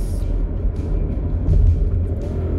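A Volkswagen Polo turbo engine with a six-speed automatic pulls away from below 2,000 rpm, a steady low rumble that swells slightly as it builds revs, heard from inside the car with no talk.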